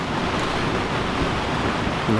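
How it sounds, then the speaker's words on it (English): Storm wind and rain pound a four-season cotton canvas tent, heard from inside as a loud, unbroken roaring rush with no pauses. "Here it is, the major storm is upon us now."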